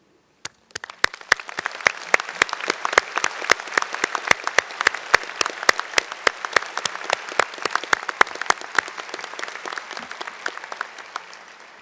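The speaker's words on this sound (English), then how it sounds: "join me to applause for them" Engineering commencement crowd in an arena clapping in sharp, evenly spaced beats that begin suddenly and continue at a steady rhythm over a light crowd wash, tapering toward the end.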